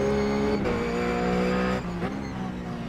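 A RUF GTC race car in iRacing at Lime Rock, its engine droning loud and steady, then the pitch drops as the throttle eases off, with a brief tire scrub.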